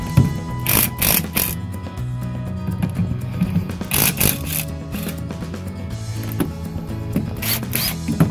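A ratchet wrench undoes the lower king pins on the front swivel hub of an 80 Series Toyota Land Cruiser, giving repeated bursts of close, bright clicking over a continuous background of music.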